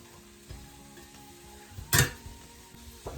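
Chopped vegetables slide and scrape across a cutting board as a metal bench scraper scoops and dumps them beside a cabbage soup pot, with soft knocks and one loud sharp scrape-and-clatter near the middle.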